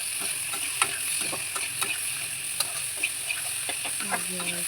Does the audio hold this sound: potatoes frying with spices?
yes